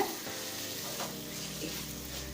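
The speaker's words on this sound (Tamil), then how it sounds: "இப்போ 1 நிமிஷம் வரைக்கும் நல்லா வதக்கிக்கலாம்." Chicken gravy masala sautéing in hot oil in a pan, a steady close sizzle with stirring scrapes running through the whole stretch, no voices.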